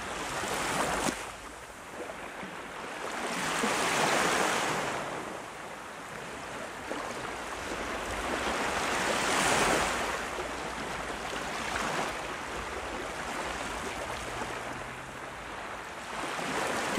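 Ocean surf rolling in, soft and distant, with slow swells of washing water cresting around every five seconds over a steady hiss, no voices.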